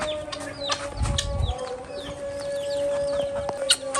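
A hen and her freshly released chicks peep and cluck softly close by, with quick high chirps scattered over a steady droning hum and a brief low thump early on.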